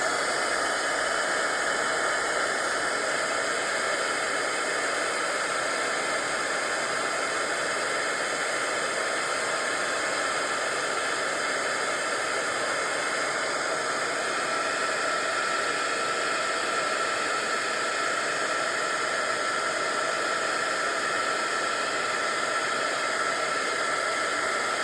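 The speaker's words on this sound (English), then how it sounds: "bring out my heat tool, and makes a noise" Embossing heat tool blowing hot air steadily for about 25 seconds at card making, a loud, even broadband whoosh with a faint hum, no talking.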